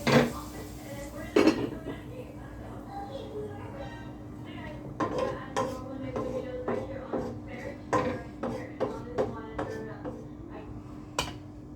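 A cooking pot covered with its lid just after tempering: close metallic clanks and clinks of lid and utensils, a few sharp knocks followed by a quicker run of lighter taps.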